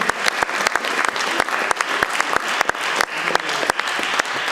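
Concert audience gives a round of applause at a folk performance, many hands clapping steadily with a few sharp, close claps standing out, continuous from start to finish.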